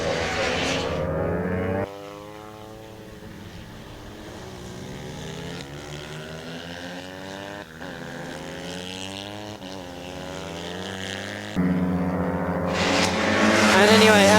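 Pit bikes racing on a track, a continuous buzzing engine drone that rises and falls as the bikes pass, heard from a distance under a commentator's steady talk.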